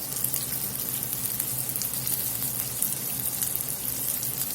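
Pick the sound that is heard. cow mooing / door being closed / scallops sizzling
scallops sizzling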